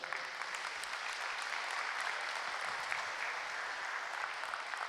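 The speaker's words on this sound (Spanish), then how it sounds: "¿Puede darle un aplauso por eso?" A church congregation at a Spanish-language service claps together in a dense, even round of applause lasting several seconds, with no voices rising above it.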